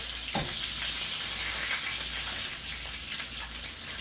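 A large steak sears in garlic-infused oil, giving a loud, dense, continuous sizzle close up with a few brief spatters and no talk.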